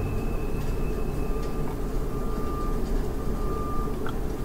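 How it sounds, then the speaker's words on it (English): A train rumbles past in the background, a steady low droning roll with a thin sustained whine above it, heard at a distance with no talking. "There goes that train again, by the way. I don't know if you've been hearing it go choo-choo in the background."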